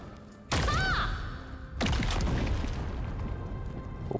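Sorceress Explosion spell cast in the video game Lost Ark: two heavy booming blasts about a second apart, the first with a rising magical shimmer, followed by a loud rumbling decay over low background game ambience.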